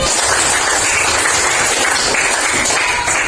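A classroom of students claps for a classmate's answer, a loud, dense wash of applause that holds steady without letup for about three seconds.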